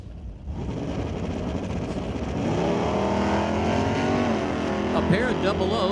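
An S10 pickup truck and a Camaro launch side by side at an NHRA Division 6 drag race at Mission Raceway Park, engines roaring loud and close and rising in pitch as they pull away, under a track announcer's commentary.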